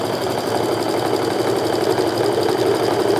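A sewing machine runs steadily, stitching quilt diamond pieces together right sides facing for a fat-quarter-friendly diamond quilt. The close, continuous whirring motor hum has a fine mechanical patter and no pauses or talking.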